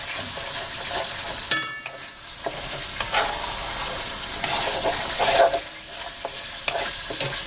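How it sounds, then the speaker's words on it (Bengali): A paste of ground garlic, cumin, chili and Kashmiri chili fries in oil with softened onions for a katla fish curry, loud continuous close sizzling with scraping stirs and no talking. "মশলাটা ভালো করে ভেজে নেব।"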